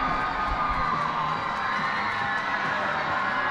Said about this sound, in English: Crowd on their feet, they are roaring here.